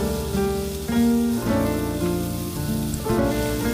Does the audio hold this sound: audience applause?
no